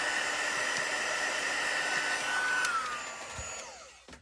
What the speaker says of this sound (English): give it a quick hit. With our heat tool.